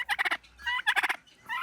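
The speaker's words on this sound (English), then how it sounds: "We got a cantankerous turkey." A cranky farm turkey gobbles loudly and close up, in three rapid rattling bursts with short gaps between them, and no voices are heard.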